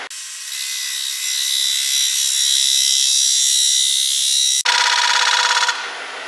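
Square lathe cutter with a slightly radiused tip scraping a spinning wooden bowl, a steady bright hiss that cuts off briefly, then resumes as a shorter, rougher rasp.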